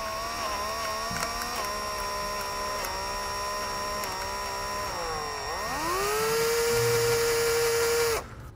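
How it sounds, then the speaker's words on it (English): A high-pitched drill with a step bit whines steadily as it bores through plastic, its pitch dipping and shifting as it bites, then spins up freely before stopping abruptly. "So we'll use a stepper bit to get it a little further along."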